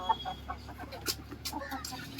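Chickens on a farm cluck in scattered short bursts, fairly near, against a quiet background.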